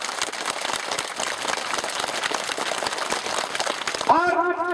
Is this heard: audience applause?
yes